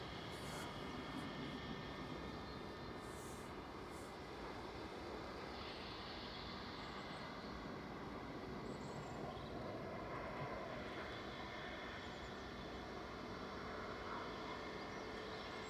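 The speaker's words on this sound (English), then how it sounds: "Aircraft sound is unreal." An aircraft passes at Manchester Airport with a broad, steady jet roar that is distant and fairly faint. It stays constant throughout with no speech.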